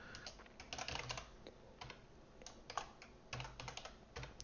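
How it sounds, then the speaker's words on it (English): Steady computer keyboard typing, quick irregular bursts of key clicks with brief pauses, close and fairly quiet, with no speech. "I have a nasty habit of typing faster or slower than I think sometimes"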